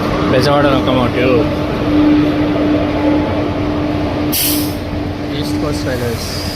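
A Vijayawada-based East Coast Railway locomotive with air brakes, heard as a steady low hum under station crowd chatter and voices, with a sharp burst of air release partway through.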